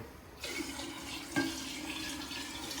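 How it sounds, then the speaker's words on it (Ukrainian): Water poured into an equal amount of alcohol: a steady pour starts abruptly and runs on for about two and a half seconds at an even level, with one slightly louder splash partway through. "взяв відповідно рівну кількість води і спирту, тому от спирту воду заливаємо"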